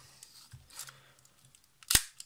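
A FED 2 rangefinder camera's shutter fires once with a sharp, close mechanical snap near the end, after quiet handling clicks and faint fiddling noises on a work surface.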